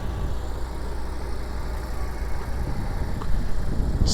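A 2010 Lamborghini Gallardo LP-560 engine running with a steady low rumble that holds a constant idle-like tone, swelling slightly louder toward the end, close and with no voices.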